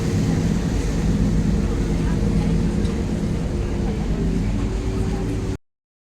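A boat motors along a canal in Venice, its engine a steady low rumble with water and wind noise, close and constant, before cutting off abruptly into silence.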